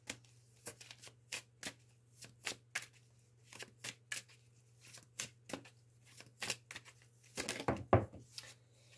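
Tarot cards are shuffled close up, a string of brisk riffling bursts repeating at a fairly even pace, quiet and alone, ending in a longer flurry of card handling.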